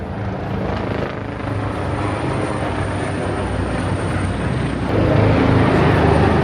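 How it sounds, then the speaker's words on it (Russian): Helicopters pass over Rome in summer, a steady, loud rotor drone with broadband engine roar that swells slightly louder near the end, with no talk over it. "Эти вертолеты всех очень удивили."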